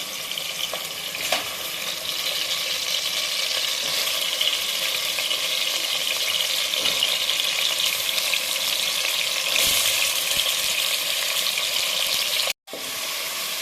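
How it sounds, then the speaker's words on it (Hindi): Mutton sizzles and fries steadily in a hot pan for nihari, a constant loud crackling hiss with an occasional stir and a brief break near the end. "इसको हम इसमें ना अच्छे से भूनेंगे। तब तक हम इसको फ्राई करेंगे"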